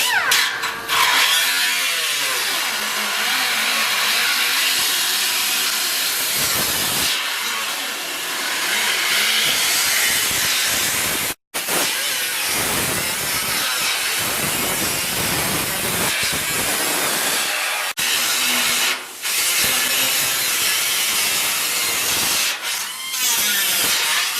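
Sheet metal being trimmed on a floor pan patch panel for a 1967 El Camino produces a loud, continuous hissing, grinding rush with shifting tones and one brief break near the middle, and no talking.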